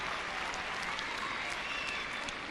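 A tennis crowd at Roland Garros applauding during a first-round match, a steady patter of clapping heard from a distance, even and moderately faint throughout.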